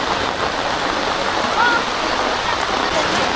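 Rain falling during a monsoon-season temple visit in Khanivade, Virar, a steady broadband hiss like a stream or downpour throughout, with a brief faint tonal sound in the middle.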